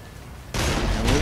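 Gunfire in Call of Duty: Ghosts, a sudden loud burst of close shots cutting in after quiet play, with booming low rumble and a second sharp crack near the end.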